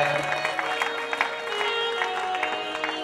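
Audience at a Shreemad Bhagavat Katha religious discourse applauding a guest in welcome, a steady patter of clapping from a crowd, moderately loud with some voices mixed in.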